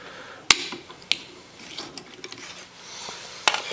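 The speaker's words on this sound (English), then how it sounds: "we'll just slide this dust cover back off" Metal dust cover on a Colt Lightning rifle in .50 Express slides back with a few sharp metallic clicks and knocks separated by soft scraping, close and fairly quiet.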